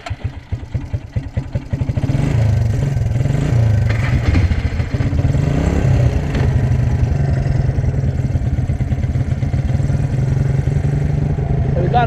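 Road-legal Can-Am and Suzuki Quadrunner quad bikes run on Scottish hills at 1400 ft, with a loud, steady engine drone that starts with uneven putters and then settles into a continuous rumbling clatter close by.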